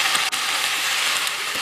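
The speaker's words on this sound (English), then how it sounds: "so I'm just going to saute my spinach in my butter" Spinach sautéing in organic butter in a pan gives a steady, close sizzle and crackle that fills the whole moment without a break.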